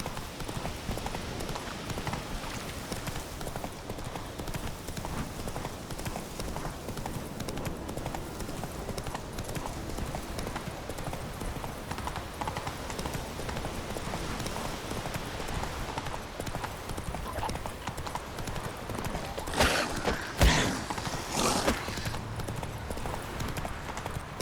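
Roach, Geralt's horse in The Witcher 3 on Skellige, trots with continuous close clip-clopping hoofbeats, steady for most of the stretch, with a few sharp louder knocks near the end.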